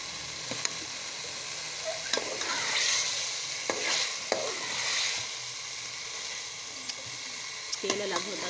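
Potatoes and fenugreek leaves frying in a pan while a spoon stirs them, a steady sizzle broken by sharp metallic scrapes and clinks of the spoon against the pan, fairly close.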